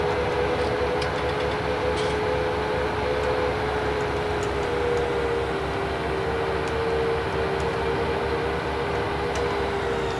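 A train at a railway station in the Landwirtschafts-Simulator 19 farming game, with a constant loud rumbling drone and a steady tonal hum running unchanged throughout.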